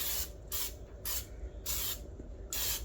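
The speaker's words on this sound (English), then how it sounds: "Spray it with a little go-go juice." Cooking oil sprayed onto a 400-degree Lodge cast iron skillet in five short, loud hissing bursts, each about half a second long with brief gaps between, close by and with no talking.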